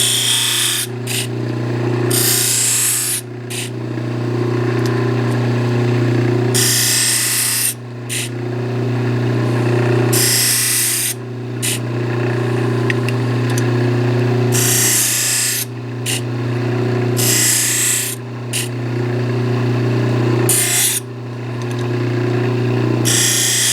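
A power tool works on small metal parts for a five-cylinder radial engine stand, running loudly in long bursts broken by brief pauses, with no talking.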